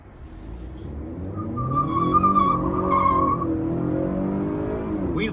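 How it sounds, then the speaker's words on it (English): A 2021 Honda Accord with a 2-liter turbo engine spins its wheels, the engine note rising as tires squeal loudly and steadily for several seconds, close by with no talking. "Wheel spins are no problem for this car."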